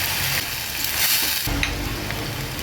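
Onion and tomato purée with asafoetida, turmeric and spices sautéing in a pan for aloo dum, a close, steady sizzle with stirring scrapes and a sharp rise in frying hiss partway through.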